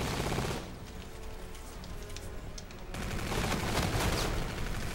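Call of Duty Gun Game gunfire on the Genesis map: dense, crackling bursts of automatic fire, dipping briefly and then swelling into a louder, continuous barrage.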